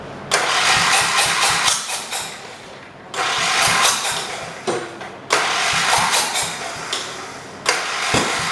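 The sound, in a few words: 1978 John Deere 208 lawn tractor engine starting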